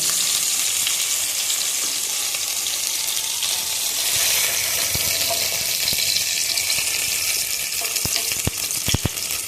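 Prawn-stuffed pointed gourd fries in hot oil with a loud, steady sizzle, broken near the end by a few sharp clicks of a spatula against the pan.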